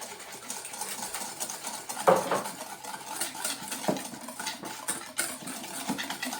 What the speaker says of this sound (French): on va faire le mélange des œufs et du sucre